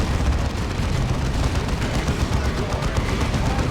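A level 3 Dreadnought's plasma cannon fires in the strategy game Dawn of War 2, amid dense, continuous battle noise of shots and blasts at loud, steady volume.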